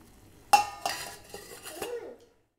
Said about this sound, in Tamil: இப்போ இதை ஒரு தட்டு வச்சு மூடி வச்சுருங்க.